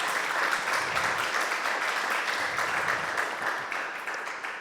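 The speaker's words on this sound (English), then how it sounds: "So let's have a round of applause for today's guests." A round of audience applause for guest concept artists at a film design talk; steady, full clapping from a crowd throughout, tapering slightly at the close.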